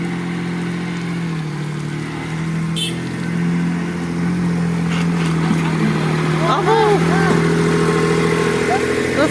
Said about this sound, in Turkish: Traktörü bekliyoruz.